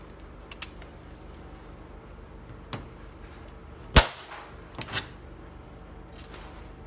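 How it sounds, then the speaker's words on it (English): A LYNX4 modular stud welder set to 150 volts fires studs in a workshop, giving several sharp, isolated snaps and cracks spread apart, one loud and close, the others fainter. "We're going to make a couple of good welds and test them."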